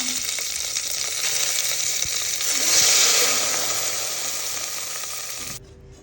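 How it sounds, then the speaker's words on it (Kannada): Mustard seeds, curry leaves and Byadgi chillies crackle and sizzle in hot oil for a sambar tempering, a steady close spitting hiss that swells briefly before cutting off abruptly. "ಒಗ್ಗರಣೆಗೆ ಸಾಂಬಾರು ಒಗ್ಗರಣೆಗೆ ಸಾಸಿವೆ, ಕರ್ಬೇವಿನ ಸೊಪ್ಪು, ಬ್ಯಾಡಗೆ ಮೆಣಸಿನ್ಕಾಯಿ ಹಾಕೋಬೇಕು"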